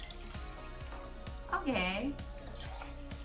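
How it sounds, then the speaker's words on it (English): Water pours into glasses for a children's salt and color experiment: a short gurgling, rising pour in the middle of the clip, under a brief spoken word and background chatter. "First, Sunny needs to pour water inside the glasses."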